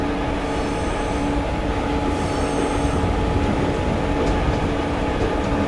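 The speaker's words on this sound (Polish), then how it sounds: "4 pociągi wjeżdżające w perony." Several trains rolling into main-station platforms in Train Simulator Classic, a loud, steady rumble of wheels and rail noise with faint squeals, heard alone without talk.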